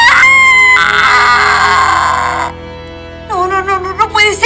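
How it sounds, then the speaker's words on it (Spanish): A loud, sustained horror scream rings out in a castle scene of a TV comedy, one long piercing shriek lasting about two and a half seconds before breaking off, then shorter wavering cries follow after a brief pause. "de pronto irrumpe en el castillo un grito de horror"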